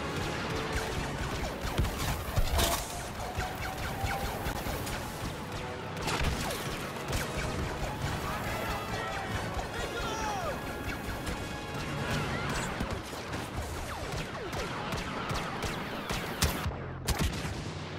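Pistol gunfire in a shooter video game, dense repeated shots and crashing impacts over a loud continuous game soundtrack, with a brief burst of louder hits near the end.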